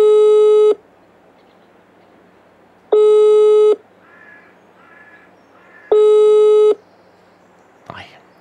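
Outgoing phone call in Farming Simulator 22 going unanswered: three evenly spaced, loud ringback tones of under a second each, with brief quiet gaps between them and a short knock near the end.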